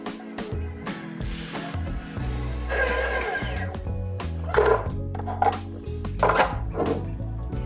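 A stand mixer kneads beignet dough at second speed, its motor giving a steady close hum broken by repeated clanks and knocks from the bowl.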